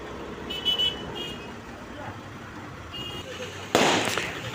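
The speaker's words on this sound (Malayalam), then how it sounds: "അപ്പോൾ അതാ പടക്കം പൊട്ടിച്ചുള്ള സ്വീകരണം കരുവാങ്കലിൽ ഒരുക്കി" Firecrackers set off as a welcome at the Karuvankal market junction, heard from a KSRTC village bus: one sharp, loud burst near the end rises over steady road and engine noise, with fainter crackles earlier.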